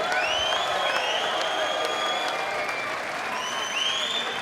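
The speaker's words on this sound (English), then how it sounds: "let's have a round of applause for both teams" Arena crowd applauding both teams at the 2018 Mosconi Cup pool event, dense continuous clapping with scattered whistles and whoops, loud and sustained throughout.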